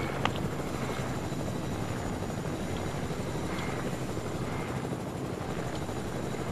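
Helicopter in the game Fortnite flying overhead, a steady whirring rotor drone at moderate distance, continuous and unbroken with no talk.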